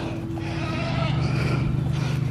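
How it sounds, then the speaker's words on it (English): A goat calls out loudly over a farm fence, its bleating sustained and close across the whole moment with no one speaking. "She is over there yelling over the fence to Bo."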